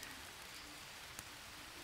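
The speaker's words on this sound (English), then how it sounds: "I'm really glad the rainy season came back" Rainy-season rain falls steadily in the jungle survival game Green Hell, a soft, even hiss of drops on surfaces with one brief louder splash, quiet and with no voices.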